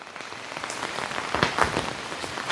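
Heavy monsoon rain pours steadily in Kerala during a flood season, a dense broadband hiss of drops striking surfaces, with a few louder splashes, no voices.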